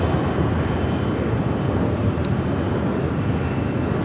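An airliner at LAX departs for London Heathrow with a steady, loud broadband jet engine roar. The noise holds even and unbroken throughout, with no voices.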